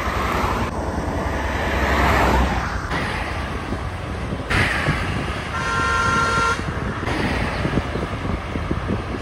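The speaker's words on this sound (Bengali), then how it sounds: "এই দেখুন গাড়িগুলো আসছে" Traffic passing on a road through lush monsoon forest near Shantiniketan: vehicles approach and rush past with loud engine roar and tire noise, in several successive waves, with a brief horn tone midway and no talk.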